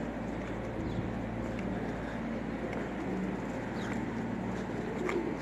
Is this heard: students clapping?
no